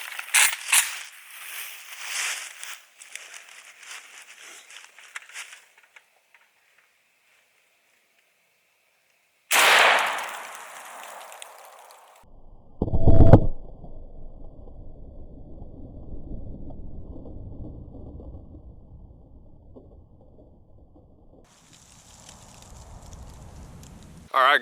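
An AK-47 fires 7.62x39 incendiary rounds into a cinder block wall: a loud crack followed by a heavy low impact thump, with talking before and a long rumbling tail of wind and handling noise afterward.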